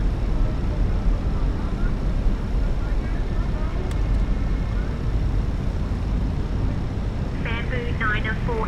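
Airliner on final approach in a flight simulator game: steady broadband engine and wind roar throughout, with air traffic control radio speech over it.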